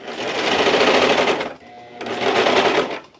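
A sewing machine stitches orange fabric in two loud continuous bursts with a brief pause between them, the needle whirring steadily with no voices.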